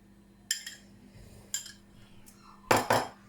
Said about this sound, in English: and I'll give it a mix. I'm just gonna mix it together